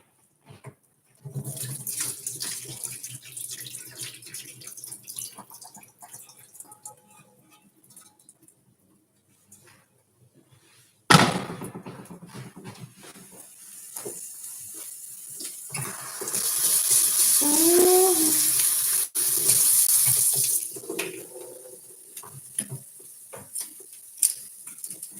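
Cooking liquid pours from a pot into a kitchen sink, a splashing, gurgling rush of water heard close by, with scattered clatter of the pot before and after.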